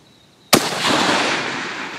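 A single sharp gunshot fired at a target on a shooting range cracks out close and loud, its report trailing off into a long, rolling echo.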